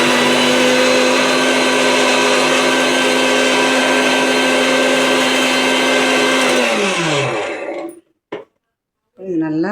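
An electric mixer grinds curry leaves into podi powder, a loud, steady whirring drone that runs close for about seven seconds, then winds down in pitch and stops, followed by a couple of short knocks and a brief voice.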